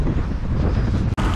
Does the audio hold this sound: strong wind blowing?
yes